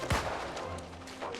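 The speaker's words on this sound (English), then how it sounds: "Oh, I like the musket." A single musket shot fired in the online game New World, one sharp close crack with a short rumbling tail.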